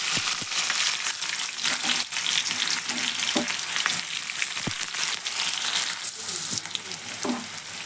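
Mustard seeds and onion with curry leaves fry in hot oil for a green pea palya, giving a loud, close, continuous sizzle broken by sharp pops and spatula scrapes against the pan.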